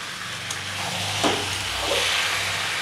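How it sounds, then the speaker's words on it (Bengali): About a kilo of chicken meat hits a hot pan for a home-style chicken curry, setting off a steady hiss and sizzle that swells slightly after a soft clatter, with no talking. "এবার আমি মাংসটা দিয়ে দিচ্ছি"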